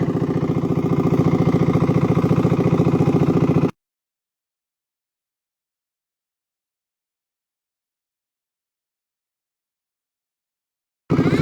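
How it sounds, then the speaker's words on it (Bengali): A trawler boat engine on Hakaluki haor in Bangladesh runs with a loud, steady, throbbing chug, then cuts to sudden silence before briefly roaring back at the very end. "যে যে ট্রলার চলতেছে"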